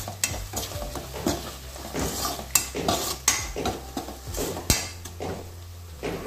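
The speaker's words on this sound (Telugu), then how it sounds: "అన్నీ వేసుకొని ఒకసారి కలుపుకోవాలి." Aloo methi curry is mixed with garam masala in a hot pan, repeated spatula scrapes and knocks against the metal over a light sizzle, close and fairly loud with no speech.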